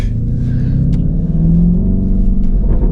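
Lamborghini Urus Performante with an Akrapovic sports exhaust, heard up close as a deep, loud, steady engine rumble with a slight rise in revs partway through.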